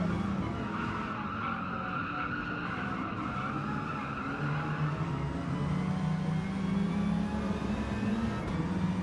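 Front-wheel drive Group 4 race car in a racing video game skidding through a tricky turn, with a sustained tire squeal over a steady engine drone that rises slightly toward the end and no talk.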